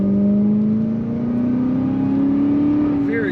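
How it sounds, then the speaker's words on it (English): A 2007 Cadillac XLR-V accelerates hard, its engine note climbing steadily in pitch as a loud, sustained roar heard from inside the car, with no talk over it. "Very good acceleration in this car."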